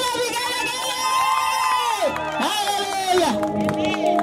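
A large crowd at an open-air Christian crusade in Korogocho, Nairobi, cheers and ululates with warbling high voices, loud and sustained throughout, with shouts rising and falling together.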